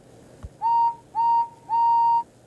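Henry the steam engine sounds three whistle blasts, each a steady tone with a slight rising start, the last held longest, loud and clear against a quiet background with no talk.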